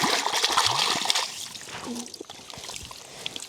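Water from a cleared stream runs into large and small hoses, with steady splashing and trickling close by, louder at first and then easing, while a voice briefly sounds in the background.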